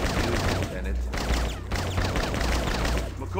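A Blade Runner video game shoot-out plays out as loud, sustained bursts of gunfire over a low rumbling game soundscape, the shots crackling almost without pause.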